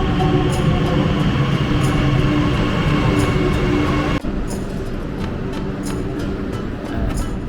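A train near Shiraz, Iran, rumbles steadily along the rails, a loud continuous roar with a sudden drop in noise partway through, then carries on more quietly.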